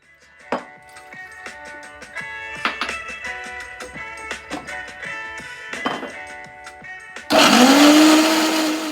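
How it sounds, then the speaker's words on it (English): Soursop pulp with a little water is dropped into a blender amid scattered clinks and knocks, then the motor kicks in loudly for the final couple of seconds, a strong whirring roar that rises in pitch. "We're going to add a little water and we're going to blend"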